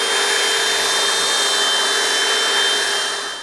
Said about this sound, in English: I've used the belt sander now to bring this down to a 110 grit finish